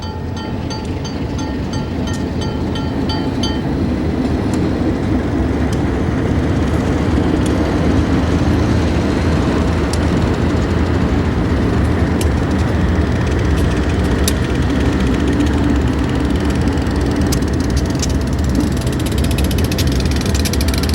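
Continuous loud rumbling and metallic clanking of a Green Bay and Western freight train rolling past, steady throughout with rattling wheels and couplings.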